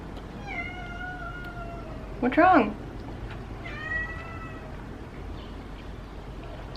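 A pet cat meows in a short, loud burst at close range, then gives a softer second call a moment later, with a person speaking briefly around the meows.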